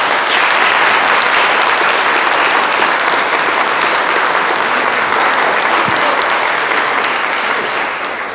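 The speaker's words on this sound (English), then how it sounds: "with all that applause" Sustained, loud audience applause fills a storytelling contest hall, dense clapping holding steady from start to finish and tapering only slightly at the end, with no voices rising above it.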